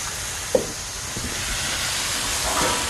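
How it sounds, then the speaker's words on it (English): Beef heart sears on a Blackstone griddle with a steady, broad sizzling hiss, broken by a sharp tap near the start and a few faint clatters. "Beef heart on the griddle."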